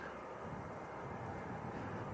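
A Ryanair airliner taxis at Leeds Bradford Airport, a steady, distant engine rumble and hiss holding at a constant low level throughout, with no talk.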